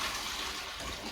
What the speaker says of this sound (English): just put some water into a smaller bucket